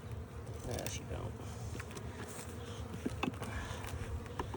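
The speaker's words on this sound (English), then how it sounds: "You got bees all over you, Mom." Bees buzz in a dense, continuous drone during a February hive inspection, up close and all around, with faint talk in the background.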